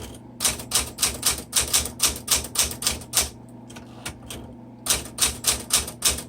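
Typing on a 1967 Super Sterling vintage manual typewriter: rapid bursts of sharp, close key strikes in a steady rhythm, a brief slower pause in the middle, then another quick run of clacks.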